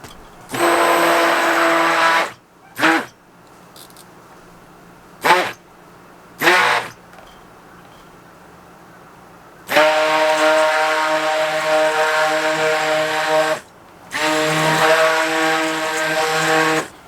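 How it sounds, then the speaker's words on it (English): An electric stick blender whirs through goat milk soap batter in repeated bursts: a long run, several quick pulses, then two more sustained runs, loud and close. "Now we're going to use the stick blender to blend that in really well."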